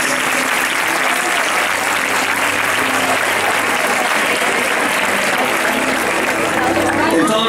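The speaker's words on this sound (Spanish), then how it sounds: "Un aplauso para ellos" Loud, sustained applause from a large crowd at a 2015 graduation ceremony, steady clapping filling the whole stretch with faint voices mixed in.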